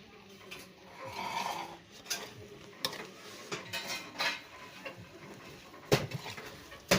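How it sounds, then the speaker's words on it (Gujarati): A spoon stirs potato poha in a pan with repeated scraping and clinking against the metal, an uneven close rhythm with a few sharper knocks. "સારી રીતે હલાવી લેવાના છે"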